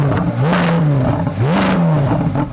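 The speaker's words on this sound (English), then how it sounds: "You might think it's a bit of a shame that the Z06 has a soft limiter, so when you rev it, it doesn't go very high." A Chevrolet C8 Corvette Z06 engine with sports exhaust revs twice in quick succession, each blip rising fast and flattening against the soft limiter before dropping back, loud and close with nothing else heard.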